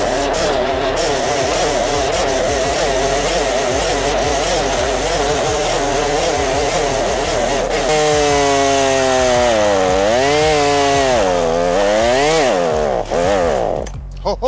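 A 40cc chainsaw idles and revs unevenly, its buzzing note wavering up and down as the fuel runs out, then sputters and cuts off near the end.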